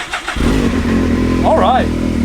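An RB28 engine in a Nissan Skyline cranks and fires up, catching after a short start and settling into a loud, close, rough idle with a brief rev swell.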